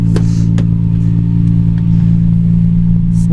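A loud 1992 Nissan Skyline GT-R with an HKS exhaust idles with a deep, steady rumble from the close exhaust, with a couple of faint clicks over the continuous low drone.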